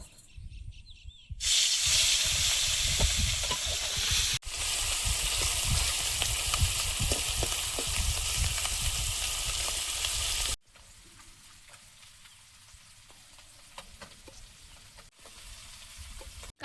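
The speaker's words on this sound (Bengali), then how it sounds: "এবার চুনো মাছগুলো ভেজে নেব" Small chuno fish frying in oil in a pan: a loud, steady hissing sizzle with crackles that drops abruptly to a much quieter fry partway through, close up and without speech.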